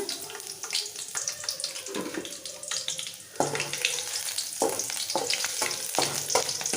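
Thinly sliced garlic fries in a tablespoon of oil in a kadai, a steady crackling sizzle broken by scraping stirs and clinks of the spoon against the pan.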